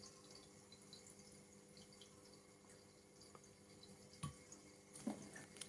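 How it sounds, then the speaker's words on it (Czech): A cat splashing about in running tap water indoors, a steady faint trickle and patter with a few sharper splashes near the end. "Kocoure! Co děláš s tou vodou? To je úplně cáká."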